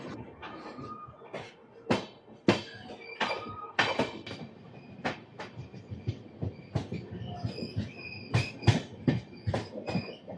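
Express train 17221 from Kakinada Port to Mumbai LTT switches from a loop line onto the main line, with rhythmic wheel clatter and sharp clanks as the carriages cross the points, heard from inside the coach at moderate volume.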